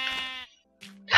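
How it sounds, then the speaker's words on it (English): Sheep bleats in the Minecraft video game, two short nasal calls separated by a brief silence, loud and close. "What's the fucking sheep?"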